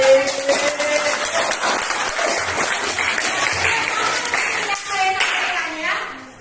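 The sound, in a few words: class applauding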